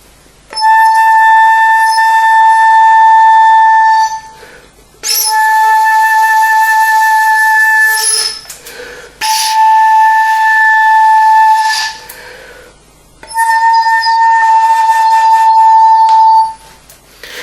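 A single sustained wind-instrument pitch, likely a recorder or flute, sounded four times in a row with different fingerings, each long tone shifting in loudness and tone color, separated by brief pauses, played alone and close.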